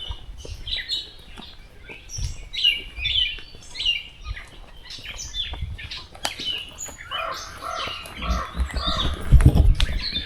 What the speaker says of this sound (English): we've had a crow angry at us since we started this trail